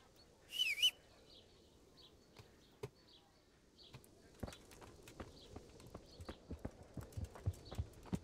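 Hooves of a horse in a video game clip-clop in a steady, quickening series of light knocks after a brief buzzing sound at the start, growing busier toward the end.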